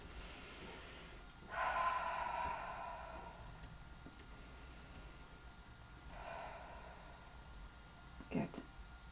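During a gentle seated chair yoga stretch, a person draws a big, audible breath, a soft rushing inhale followed by a longer exhale, with a quieter breath later and low room hiss throughout.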